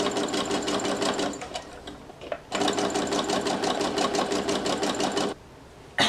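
A sewing machine back-stitching a polyester face mask runs loud and close in steady bursts of rapid mechanical needle chatter, with brief pauses between runs.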